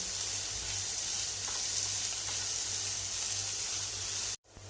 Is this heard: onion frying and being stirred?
yes